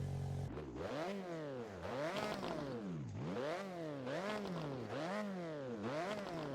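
Repeated revving of a 450-horsepower 2.5-liter inline-four in the Roblox game Driving Empire, the engine note climbing and falling in about six steady, continuous rev cycles.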